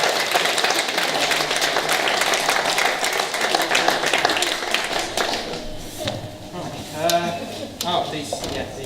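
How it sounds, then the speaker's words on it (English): Wedding guests applaud the bridesmaids at a reception, a dense, steady wash of clapping that runs for several seconds before thinning out as a voice starts speaking near the end. "Round of applause for the bridesmaids."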